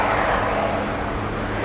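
Airliner at Sydney Airport, a steady broadband jet roar filling the whole stretch at close range, loud and continuous with no voices.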